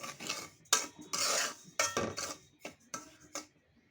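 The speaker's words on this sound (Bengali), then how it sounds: "সুজিটা আমার ভালো মতো ভেজে নিচ্ছি" A utensil scrapes and stirs semolina roasting in a pan over a low-to-medium flame for suji halwa, with close, repeated rasping strokes in an uneven rhythm that fade toward the end.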